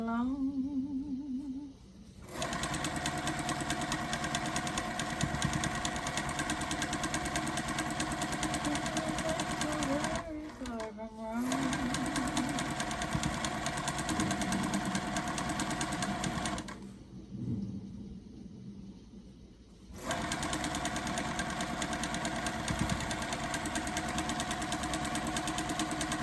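A sewing machine runs steadily, stitching a quilt top for a scrappy Americana flag quilt. It hums close and loud in long continuous runs, breaking off briefly near the start, around ten seconds, and for a few seconds near seventeen seconds.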